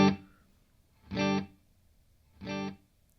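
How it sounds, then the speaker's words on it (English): Guitar through a Boss DD-6 digital delay pedal set to quarter-note repeats, a single struck chord followed by two evenly spaced echoes, each quieter than the last. "Set to quarter notes we have."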